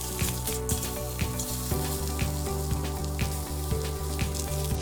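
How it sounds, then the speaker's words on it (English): Shrimp frying in oil in a wok, a dense steady sizzle with scattered pops, over a rhythmic low mechanical hum or thump. "Fry shrimp in a wok with oil."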